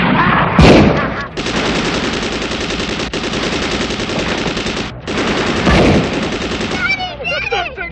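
Rapid, sustained gunfire from a shootout scene in the low-budget cop film Hollywood Cop, with dense automatic bursts running almost continuously across the clip, briefly broken, alongside shouted voices and impact noise.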